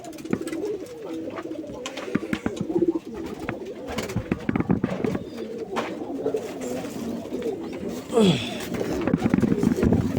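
Pigeons coo softly and repeatedly through a busy background of rustling, shuffling and faint voices, fairly close.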